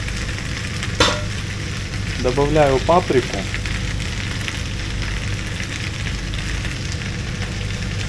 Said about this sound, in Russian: Там жарится, там шкварчит.